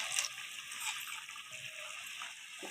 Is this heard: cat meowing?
no